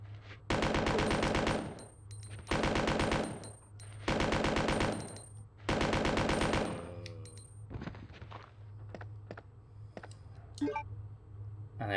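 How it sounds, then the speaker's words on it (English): Machine gun firing in Resident Evil 2, four loud bursts of rapid automatic fire separated by short pauses, followed by scattered single clicks and faint impacts. "let me at least demonstrate what the machine guns are like"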